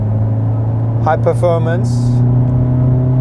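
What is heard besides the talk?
Hyundai Elantra N engine with active sound design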